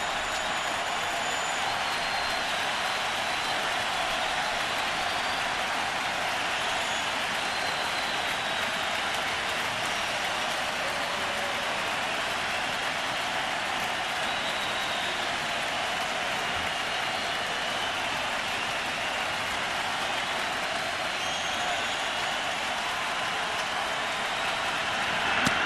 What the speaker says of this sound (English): Now the crowd's back.